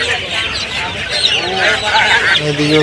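Many young broiler chicks at a poultry market in Tongi, Bangladesh, peep and cheep continuously in a dense, high-pitched chorus, close and fairly loud, with a murmur of other noise beneath.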